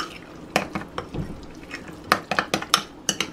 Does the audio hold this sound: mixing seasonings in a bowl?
yes